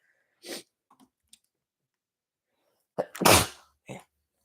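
Two sharp, close sneezes separated by a quiet pause, the second louder and followed by a short breathy sound.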